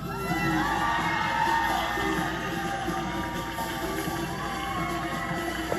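A pageant audience cheers, whoops and shouts continuously for a semifinalist being announced, a dense, lively crowd roar with high excited voices throughout.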